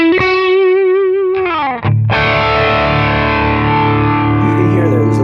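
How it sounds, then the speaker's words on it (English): Electric guitar run through a Quad Cortex with a subtle pitch-shifted doubling effect, giving a slight chorus-like warble. A sustained note wavers, slides down and cuts off briefly, then a new chord rings out loud and steady on its own. "You can hear there's a little bit of a warble, sounds like a chorusing effect."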